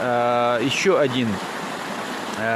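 Water flows through a channel feeding the Grozny Sea, a steady rushing wash beneath someone talking nearby.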